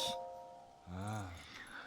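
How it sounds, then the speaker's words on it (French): In Zelda: Tears of the Kingdom, the Temple of Time bell rings out as a soft sustained chime, and a voice speaks over the fading tone. "La cloche du temple du temps sonne à des heures précises pour signaler le début du matin et du soir."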